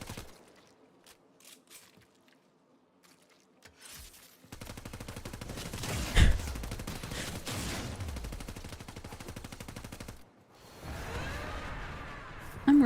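Video game gunfire erupts as dense, rapid automatic bursts that run for several seconds, stop briefly, then resume, after a quiet opening with faint scattered sounds.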